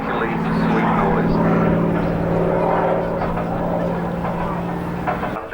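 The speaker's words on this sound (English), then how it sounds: "Rolls-Royce Merlin engine. It makes a particularly sweet noise." A Rolls-Royce Merlin piston aircraft engine drones loudly and steadily with a deep, throaty growl, like a warplane passing nearby at an airshow.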